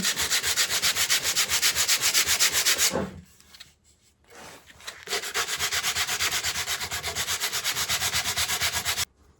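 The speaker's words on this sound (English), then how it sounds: "And a bit of 120 grit. Getting that down." Rapid, loud rasping of 120-grit sandpaper on a guitar head veneer, close up, in two long bursts of rhythmic strokes separated by a brief pause.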